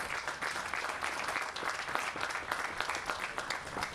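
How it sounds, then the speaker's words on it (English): Steady applause from an audience at a Maker Faire press conference, a continuous crackle of many hands clapping that holds at an even level throughout. "So I want to give them a round of applause for all their hard work."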